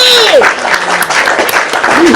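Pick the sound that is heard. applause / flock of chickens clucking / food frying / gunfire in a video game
applause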